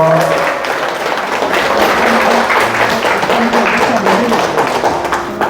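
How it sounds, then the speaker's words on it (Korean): An audience at a lecture forum gives sustained, dense applause of many hands clapping together, loud and steady throughout with no break. "다시 한번 뜨거운 감사의 박수 부탁드립니다."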